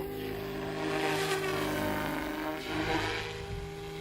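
An Alzrc Devil 380 TBR RC helicopter flies at about 3,000 head speed, its rotor and motor giving a steady, loud, even whine that drones on without a break for the whole stretch.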